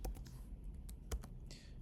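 Someone types on a computer keyboard while entering code into Sage math software, giving a quick run of close, light key clicks with short pauses between bursts.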